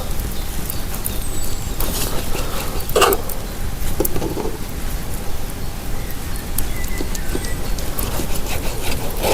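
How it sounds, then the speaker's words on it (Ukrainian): Wood being cut into small pieces for a wood-chip camp stove outdoors, heard as continuous close rasping and scraping strokes with a few sharper knocks. "Ріжу невеликими шматками."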